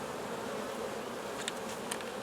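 Honey bees drone in a steady, dense buzz at an eight-frame double-deep hive in springtime, the swarm's hum constant and close with a few louder passes near the microphone.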